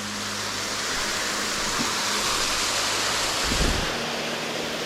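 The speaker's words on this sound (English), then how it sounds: "And here's our first waterfall." A waterfall at Becky Branch Falls, just off the Bartram Trail in a forest, gives a steady broadband rush of falling water. It is loud and constant throughout, with no voices.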